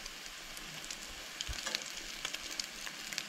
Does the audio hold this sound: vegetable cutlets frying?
yes